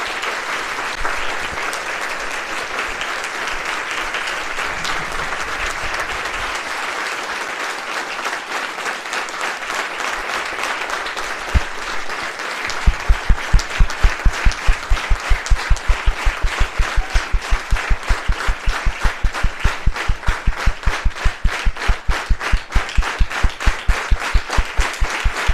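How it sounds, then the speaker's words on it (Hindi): An audience at a coaching institute event claps, starting as dense, steady applause and then shifting into loud, rhythmic unison clapping that keeps a fast, regular beat through the end. "तालियां बजाइए ज़बरदस्त।"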